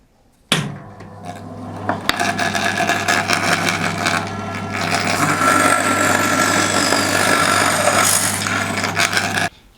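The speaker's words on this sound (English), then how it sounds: "I'm just going to roughly cut it out on the bandsaw" A bandsaw roughly cuts out a walnut blank for a turned pendant. It starts abruptly and runs as a continuous, loud whine with a buzzing blade until it cuts off sharply near the end.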